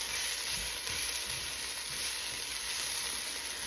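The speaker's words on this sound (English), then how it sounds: "So I'm just going to stir that around a minute and let those herbs kind of get hot." Parsley and other herbs sizzling in hot fat in a soup pot while being stirred, a steady bright crackling hiss with faint scraping, no talking.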